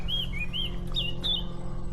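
Songbird calling from trees in leafy cover, a run of bright, quick chirps and short whistled phrases repeating over steady low background hum, fairly close and clear with no voices.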